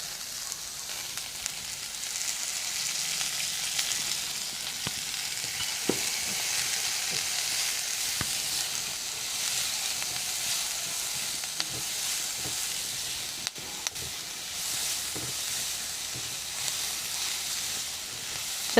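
Chicken pieces for Chicken Beijing fry in oil with a steady, dense sizzle that holds evenly throughout, broken by occasional faint clicks and stirring knocks, with no voices.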